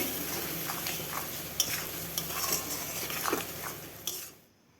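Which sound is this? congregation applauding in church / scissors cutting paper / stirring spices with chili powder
stirring spices with chili powder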